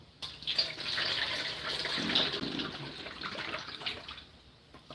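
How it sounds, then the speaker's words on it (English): Liquid poured steadily from a bowl in a home kitchen while cooking, a continuous close hissing, splashing stream lasting several seconds before tapering off, with no talking. "So now we pour."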